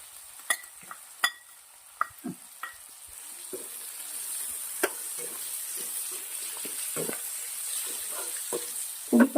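Baby corn sautés in a pan for street-style baby corn Manchurian, with a steady sizzle that grows slightly louder. Sharp spatula clanks and scrapes against the pan are heard up close.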